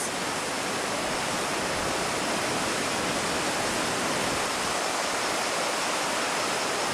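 Waterfalls pour into pools in a gorge in Nepal, making a loud, dense, unbroken roar of rushing water with no other sound standing out.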